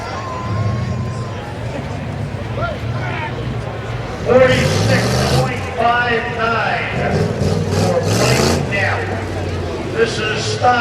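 A 1999 Oldsmobile Aurora stock car at a rough truck event, engine rumbling and revving in bursts at moderate distance, with crowd noise and a voice talking over it.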